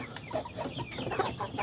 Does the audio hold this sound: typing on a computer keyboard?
no